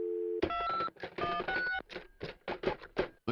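Telephone keypad tones beep in a quick irregular sequence of about a dozen short bursts, close and clear, preceded by a brief steady tone.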